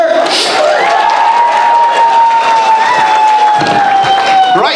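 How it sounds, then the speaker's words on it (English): An audience at a school variety show cheers and shouts for a prize winner; a loud, continuous crowd roar runs throughout, with a sustained tone riding over it. "Give her a big cheer."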